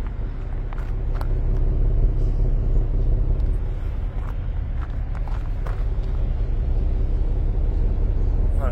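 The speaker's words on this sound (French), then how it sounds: "Un bon son de V6." A Porsche Cayenne V6, not yet fully warm, runs steadily with a deep, continuous engine rumble close by and no pauses throughout.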